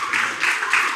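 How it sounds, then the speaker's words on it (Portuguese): Church congregation applauding briefly, a dense burst of clapping that pulses in a few waves, fairly near and filling the space. "Pode aplaudir."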